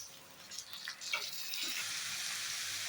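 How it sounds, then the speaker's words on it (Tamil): Tomatoes land among sautéed onions in a hot pan, a few soft splats followed by a rising, steady sizzle that carries on faintly. "ஓகேங்க, வெங்காயம் நல்லா வதங்கிடுச்சு. இப்போது நம்ம தக்காளி சேர்த்துக்கலாங்க."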